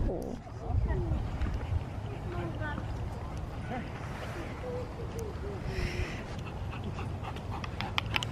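A dog panting in a car on a drive to the dog park, steady breathy pants running throughout under road and cabin rumble, with bits of talk in the background.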